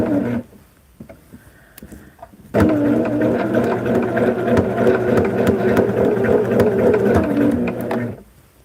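After a quiet start, a sewing machine sews a placemat block together in one loud, close, steady run of rapid stitching lasting several seconds before stopping.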